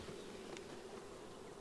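Honeybees swarm at an open hive during an inspection, a dense, steady buzzing drone that holds evenly throughout, close and alone without any voices.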